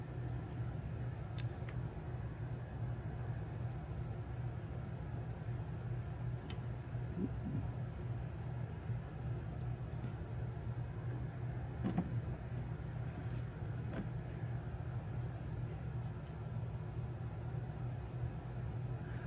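A car engine runs at a steady low idle after a home oil change, a faint continuous rumble with occasional light ticks and clicks, no voices.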